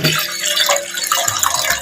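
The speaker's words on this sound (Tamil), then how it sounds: "தேவையான அளவு தண்ணி ஊற்றிக்குவோம் அவிக்கிறதுக்கு" Water poured from a vessel into an idli steamer pot in a home kitchen, a short close splashing, filling sound of about two seconds with no talk.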